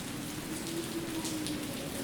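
Steady rain falls without a break, a dense, even hiss of drops on open land with a faint low hum beneath it.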